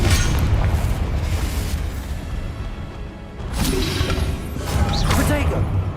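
A Confringo fire spell explodes in Hogwarts Legacy, a dense rumbling blast with whooshing bursts over a constant loud backdrop of game effects.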